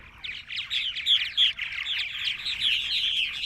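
A flock of purple martins chatters continuously with rapid, gurgling chirps and squeaky warbles, fairly close and lively, with no talking.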